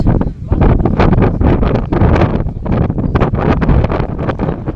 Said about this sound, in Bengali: বাতাস বাতাস